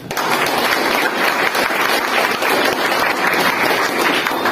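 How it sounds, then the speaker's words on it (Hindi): A meeting audience claps loudly and continuously in a dense, sustained burst of applause. "एक बार हम चाहेंगे कि हम लोग जोरदार तालियां यहाँ पर बजाएं"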